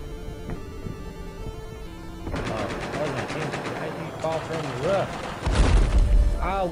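Battlefield 4 combat on PS4, with bursts of automatic gunfire and heavy thuds building through the clip and a loud boom near the end, under a player's voice.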